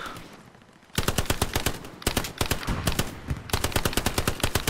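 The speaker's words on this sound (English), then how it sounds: "Covering fire for the medic on medic action." Sustained automatic machine-gun fire in the World War II shooter Hell Let Loose, laying down covering fire; quiet at first, then loud, rapid bursts of close shots running almost continuously with brief pauses between strings.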